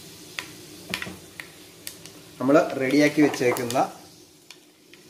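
Fenugreek seeds spluttering in hot oil in a pan for a Kottayam Kanjirappally-style fish curry: scattered sharp crackles and pops come in bursts, briefly masked when a person speaks in the middle.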